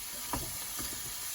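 Egg with shrimp and tomato frying in a pan for an omelette, a soft steady sizzle with a few quick stirring scrapes, close and fairly quiet.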